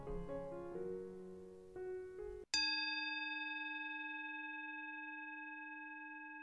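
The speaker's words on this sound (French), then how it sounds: "Le son de cloche que tu vas entendre te préviendra du début et de la fin de ta méditation." A single bell struck to open a children's meditation rings out clearly after soft music stops, its bright tone holding and slowly fading over several seconds.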